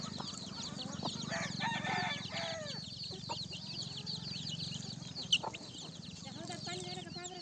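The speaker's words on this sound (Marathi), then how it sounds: "याला गावरान पक्षी म्हणतात मित्रांनो" Free-range village chickens cluck and a rooster crows nearby in an outdoor farmyard, with steady layered fowl calls throughout and a sharp brief peak partway through.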